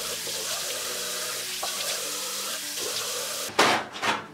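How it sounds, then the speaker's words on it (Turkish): Face washed with water at a bathroom sink, running water and hand splashes throughout, ending in a couple of louder close splashes. "Neyse ben bir yüzümü yıkayayım."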